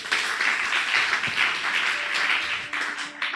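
Applause fills a hall as a congregation at a ministers' church retreat claps steadily, a dense crowd of hands that holds level for several seconds and then thins slightly toward the end.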